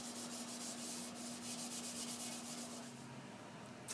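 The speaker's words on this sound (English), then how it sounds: "that little bit of scratching of the wax with the scrubby allows the second coat to completely adhere beautifully" A scrubby pad rubs wax over the surface of a saggar-fired pottery piece in quick repeated strokes, a close, soft scratchy friction against a steady background hum.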